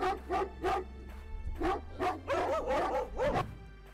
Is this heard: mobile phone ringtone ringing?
no